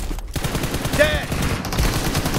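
Rapid gunfire in a video game, dense bursts of shots running steadily under a busy game soundscape with a brief whistling sweep midway.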